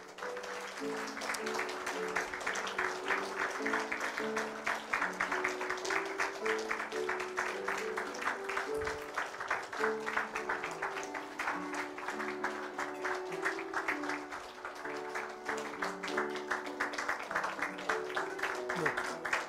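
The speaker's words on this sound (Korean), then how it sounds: "여러분 뜨겁게 박수해 주시기를 바랍니다" A church congregation claps steadily for an infant's entrance at a baptism service, the rhythmic clapping running throughout over sustained tonal sounds, with voices present.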